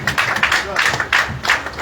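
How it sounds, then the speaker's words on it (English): A crowd at a gathering of APC party leaders claps for their chairman, a steady, fairly loud patter of many hands rising and falling in bursts with voices mixed in. "I really clap for our chairman."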